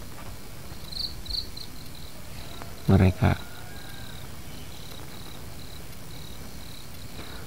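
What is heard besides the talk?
crickets chirping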